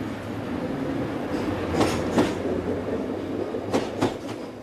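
A departing southbound train rumbles steadily with a few sharp metallic clanks and squeals standing out over the constant rolling noise.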